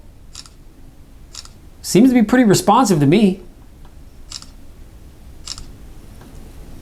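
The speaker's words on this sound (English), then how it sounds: "these are just test shots, just to test to see if indeed the picture is being captured right when I press the button" Shutter clicks from a Samsung Galaxy Z Flip 5 camera firing test shots of a keyboard, a few short faint ticks spread across the clip around a brief stretch of someone talking.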